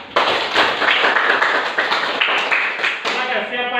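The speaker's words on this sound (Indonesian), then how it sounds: "Kita berikan tepuk tangan untuk kelompok 2." A classroom of students applauds a group called up to present, a dense burst of hand claps filling the room for nearly four seconds, with voices mixed in.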